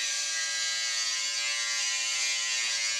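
An electric men's shaver runs steadily throughout, a continuous high-pitched buzzing hum with a faint rasp as it cuts stubble, close and alone with no voices.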